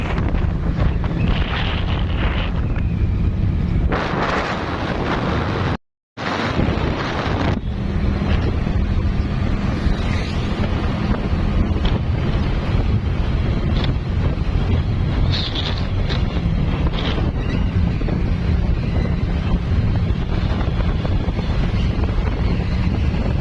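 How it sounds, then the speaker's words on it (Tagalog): Strong cold morning wind buffets the microphone in a continuous roar beside a national highway, with a brief dropout partway through and no voices. "Ang lamig ng hangin sa umaga"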